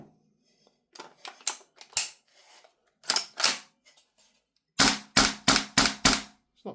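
A Tokyo Marui AKX gas blowback airsoft rifle fires in sharp, close, snappy bursts: scattered single shots, a short cluster, then a rapid run of five or six cracks near the end.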